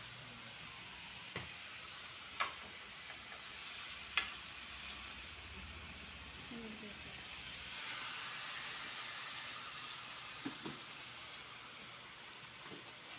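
Garlic fries in a pan with a steady soft sizzle and hiss, broken by a few faint clicks and taps of stirring, quiet and close with no talk.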